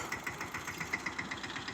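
A tractor engine runs in a millet field, a steady close idle with a regular chugging pulse and a light knocking rhythm.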